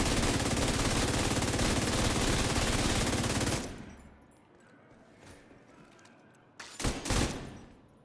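LMG machine gun fire in a video game, a loud sustained rapid burst for several seconds that cuts off, followed by quieter ambience and a couple of short sharp bursts.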